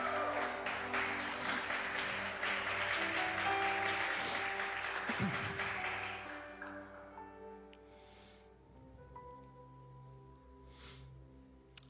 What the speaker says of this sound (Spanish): Den su aplauso para ustedes